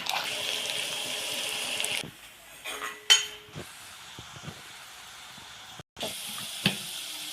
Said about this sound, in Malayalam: ഇനി വെച്ചിരിക്കുന്ന വെളുത്തുള്ളി നമുക്ക് ഇട്ട് കൊടുക്കാം വെളുത്തുള്ളി വഴണ്ടി വരട്ടെ